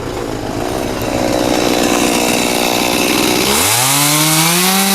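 An Arpal AM-200TR-K wood chipper driven by a DTZ-5504K tractor chops 20 cm logs, giving a loud, steady, rasping mechanical roar. Near the end the engine note swings and climbs sharply in pitch as the load changes.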